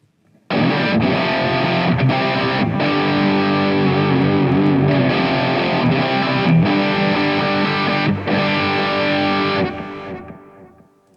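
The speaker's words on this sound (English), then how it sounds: "we will really crank up the gain on this. We'll dial back the bass. And we'll bring in our echo tank." Electric guitar lead tone with cranked high gain, reduced bass and an echo tank on a Fender Tone Master Pro, a loud distorted sustained riff of held notes, played alone and trailing off into an echoing decay.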